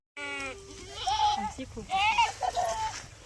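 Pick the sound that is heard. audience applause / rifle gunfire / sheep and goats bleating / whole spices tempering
sheep and goats bleating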